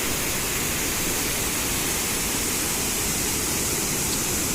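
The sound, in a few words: waterfall near Butwal, Nepal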